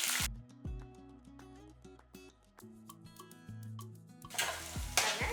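Chopped small onions and curry leaves sizzle in a hot pan, with soft stirring scrapes and occasional clinks of a spoon against the metal, growing busier toward the end.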